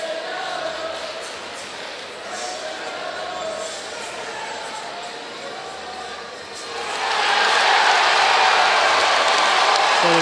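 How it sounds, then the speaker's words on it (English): A basketball arena crowd at a 2017 college game rises into loud, sustained cheering after a foul, building sharply to a dense roar for the final few seconds over a steady background of crowd noise. "So the crowd is cheering"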